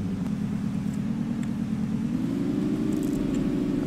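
A steady low video game truck engine drone, idling and slowly rising in pitch, continuous and fairly loud with no talking.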